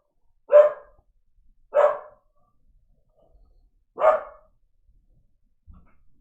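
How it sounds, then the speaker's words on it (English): A dog barks indoors during a relaxed snow-day live stream: three separate woofs, the third after a longer gap, moderately close against quiet. "The dog is distracting me now."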